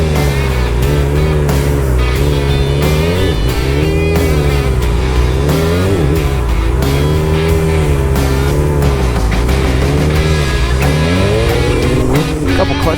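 A car with a manual clutch doing sitdown circles in a parking lot, its engine revving loud and continuously with a repeating rise and fall in pitch as it loops, close to the listener.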